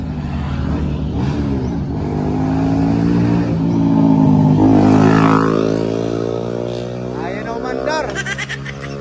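A motorcycle engine starts and revs loudly close by, its droning pitch rising and falling over several seconds while people talk.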